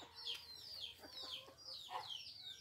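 Chickens cluck and call softly around an orange tree, with several faint overlapping clucks and short squawks set against a quiet outdoor background.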